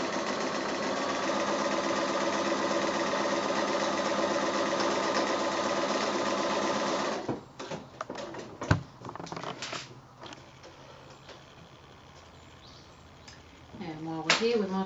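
A sewing machine stitches a quilt seam in a long steady mechanical hum, then stops, and handling of fabric and small clicks follow.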